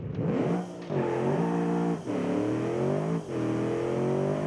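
A car engine revs up hard to high RPM, around 7,000, in three rising surges, each dipping briefly between pulls, loud and close with a steady whirring drone and no talk.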